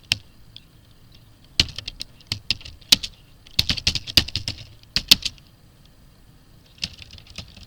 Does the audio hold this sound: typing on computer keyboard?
yes